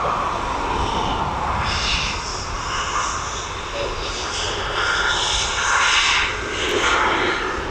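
Engines spool up on a DHL four-engine cargo aircraft at East Midlands Airport, a loud, dense whine and rumble that rises and falls in waves, close by and continuous.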